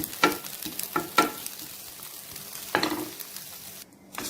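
Curry leaves fry in a pan for a chicken dish, giving a steady soft sizzle broken by a few louder scraping stirs, close and with no talking.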